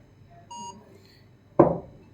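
A mobile phone camera barcode scan in a liquor shop billing app gives one short electronic beep, followed a moment later by a brief louder rustle or knock.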